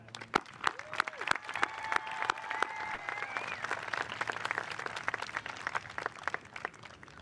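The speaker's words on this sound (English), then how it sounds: "please join me in a round of applause for our graduates" Fairly faint applause from attendees at the Ossining High School graduation ceremony in June 2021, with scattered sharp claps standing out from the rolling clapping and a faint tonal sound in the background.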